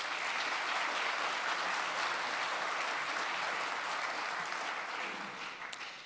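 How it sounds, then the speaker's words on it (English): Steady, dense applause from a conference audience, an even wash of many hands clapping at moderate volume that holds for several seconds before tapering slightly at the end. "So, a round of applause for all those folks, please"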